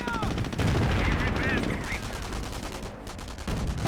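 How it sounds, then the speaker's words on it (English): Machine-gun and rifle fire rattle through a Company of Heroes 1 battle between US and Wehrmacht forces, a dense, continuous stream of bursts with muffled booms and a brief voice underneath. "Base under enemy fire"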